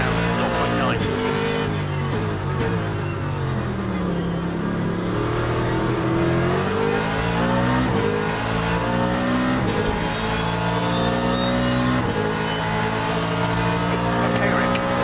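GT race car engine in the Le Mans Ultimate racing sim, a continuous loud roar rising and falling through gear changes across the whole stretch, with a voice talking over it.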